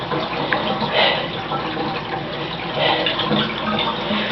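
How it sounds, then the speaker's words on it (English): Water runs out of a newly fitted bathtub with a slow-draining drain, a steady broadband wash of flowing water with faint gurgles, fairly close and continuous throughout, with no one talking. "So, let's get all the water out and try again."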